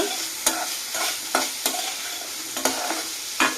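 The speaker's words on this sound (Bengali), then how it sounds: "অল্প সামান্য মিট মশলা এগুলো দিয়ে ভালো করে আমি কষিয়ে নেব তরকারিটা" A curry with meat masala is sautéed in a pan, steady frying sizzle broken by sharp, repeated scrapes and knocks of a spoon stirring, close and fairly loud, with no talking.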